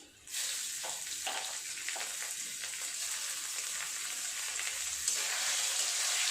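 Prawns dropped into a pan of lightly fried onions for a stuffed pointed gourd dish set off a steady, close sizzle that swells at the start and holds loud and constant, with faint stirring scrapes.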